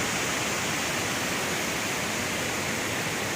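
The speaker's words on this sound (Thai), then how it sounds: "เป็นน้ำตกตาดความสีที่อยู่หลวงพระบาง" Tat Kuang Si waterfall in Luang Prabang, Laos, a steady, loud broadband rush of falling water over low cascades, close and unbroken with no voices.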